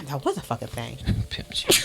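A single quick sneeze bursts out in the middle of a lively podcast conversation, with people talking right around it.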